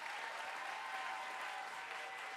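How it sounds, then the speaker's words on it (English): An audience at a youth poetry slam final claps steadily for a poet, a continuous, even wash of applause heard at a distance. "Clap it up for the poet, please"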